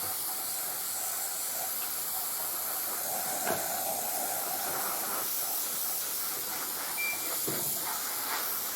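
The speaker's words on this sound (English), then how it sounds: "And you see, it's so good out of the airbrush." An airbrush spraying paint onto a Takom M47 tank model, a steady close hiss of air that runs unbroken with faint clicks, no talking.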